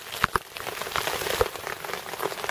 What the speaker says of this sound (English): And it's just raining steadily all day